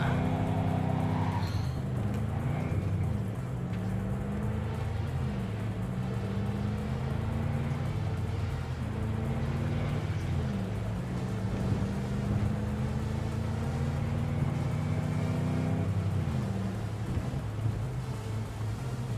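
A car engine in the video game Cyberpunk 2077 drones steadily throughout, its pitch repeatedly climbing and dropping back as if shifting gears, with a low rumble underneath and no talking.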